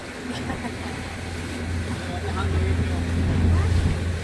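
A small boat motors over ocean waves off Cabo San Lucas, its engine droning low beneath rushing wind and splashing water, growing slightly louder toward the end, with muffled voices mixed in.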